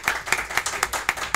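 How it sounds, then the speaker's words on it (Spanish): A small audience at a technical institute open house claps for the college president, with sharp, distinct handclaps in a loose, fairly regular rhythm, close and moderately loud. "Y le quiero que le den un aplauso"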